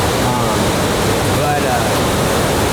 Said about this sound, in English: The last thing you want to do is be close to that waterfall.